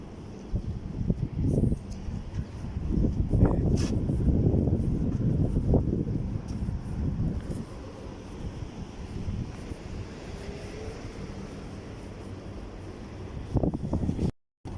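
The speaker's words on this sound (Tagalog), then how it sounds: "Lakas ng hangin." Strong, steady wind in a Kuwait sandstorm roars and rumbles across the microphone for the whole stretch, with gusty low buffeting and a brief cutout near the end.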